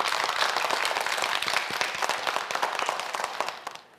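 Studio audience on a Korean science quiz show claps in sustained, dense applause for about three and a half seconds before it quickly fades out.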